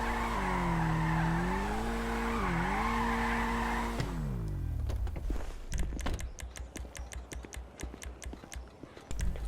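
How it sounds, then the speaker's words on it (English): Video-game car drifting and spinning donuts in GTA 5: a steady engine drone with wavering pitch for about four seconds, then it cuts to a busy clatter of sharp ticks and scrapes that continues to the end. "I'm just going to drift around here for a sec, just try and do some donuts"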